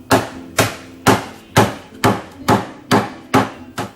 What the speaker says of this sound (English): put them in a sealable plastic bag, and just beat them into submission